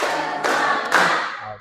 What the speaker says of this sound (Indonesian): Tepuk semangat, tepuk 1.